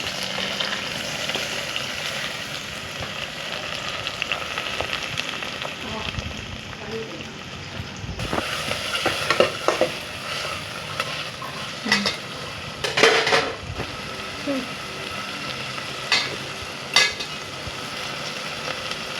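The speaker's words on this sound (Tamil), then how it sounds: "தக்காளி வெங்காயம் போட்டு நல்லா வதக்கிக்கணும்." Onion and tomato sauté in oil with mustard seeds for banana stem poriyal, with a constant sizzle under sharp metal clinks and spoon knocks against the pan while someone speaks.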